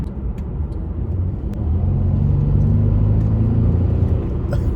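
Mercedes CLS 350 engine accelerating, heard from inside the car as a steady low rumble and whir that rises in loudness partway through and then holds, with no talk.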